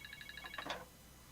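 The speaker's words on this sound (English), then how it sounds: "No, I'm not answering the phone." Telephone ringing quietly in a house, a rapid warbling electronic ring repeating several times before cutting off, with a brief voice over its end.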